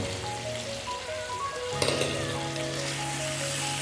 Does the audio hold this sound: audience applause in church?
no